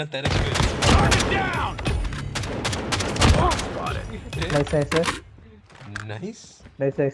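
Shotgun and other weapons fire in the Call of Duty Mobile video game as bursts of sharp shots crackle through the mix, heard while players talk excitedly over the action.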